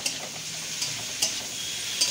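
A brief stir of salted prawn Manchurian mixture in a frying pan: a soft, steady sizzle with a few light metallic taps from the spoon.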